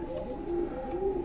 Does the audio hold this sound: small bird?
yes